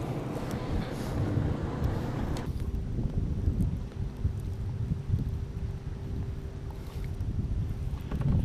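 A boat motor rumbles low and steady nearby with wind buffeting the microphone, a dull continuous drone on open water amid summer boat traffic on Lake Norman.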